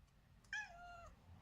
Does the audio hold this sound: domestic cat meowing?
yes